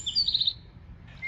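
A Eurasian wren sings in thin, high chirping phrases, one burst early and another near the end, clear and fairly close over a quiet background.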